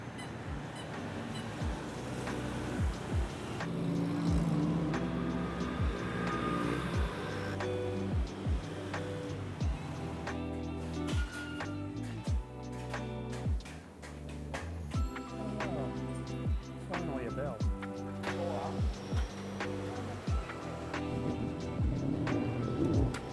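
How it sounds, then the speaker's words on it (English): Chop shops in a Bangkok street clatter continuously with dense metallic banging, ticking and tool noise over a busy traffic rumble, loud and sustained throughout. "Listen to the dulcet sounds of the chop shops going nuts"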